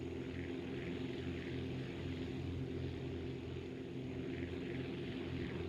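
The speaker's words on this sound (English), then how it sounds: "I may have to crank that other engine up some just so I have that power available." Steady, loud droning hum of an aircraft propeller engine in the Aviassembly flight game, continuous and unchanging throughout with no talking.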